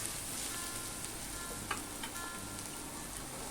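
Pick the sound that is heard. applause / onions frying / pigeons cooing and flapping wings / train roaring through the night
onions frying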